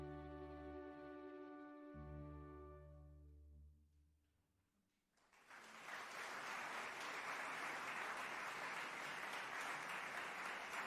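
Video game applause sound effect, a faint swell of crowd clapping that rises and stays steady after a short musical tone fades out.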